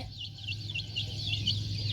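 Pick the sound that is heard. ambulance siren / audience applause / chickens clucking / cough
chickens clucking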